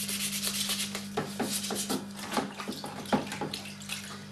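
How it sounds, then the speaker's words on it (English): A hockey mask is lightly sanded by hand with 400 grit wet and dry paper, giving a steady series of close, rhythmic rasping strokes over a constant low hum. "Give it a good light rub down. I'm using 400 grit wet and dry here."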